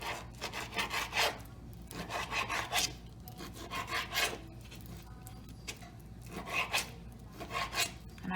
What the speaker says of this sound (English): I'm gonna slice those up just like I did the sausage. I'm using my fillet knife.